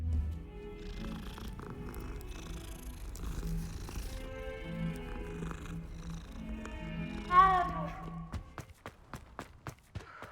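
A cat purrs in Hogwarts Legacy, a steady low rumble running close and continuous for most of the stretch under game music, then fading out near the end as a quick run of sharp clicks follows.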